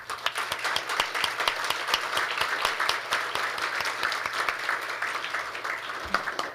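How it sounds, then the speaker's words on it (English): A hall audience at the 2nd ROK-UNCMS Defense Ministerial Meeting gives warm applause to welcome Germany's defence ministry State Secretary Nils Hilmer, with many hands clapping steadily and crisp individual claps standing out throughout. "warm round of applause"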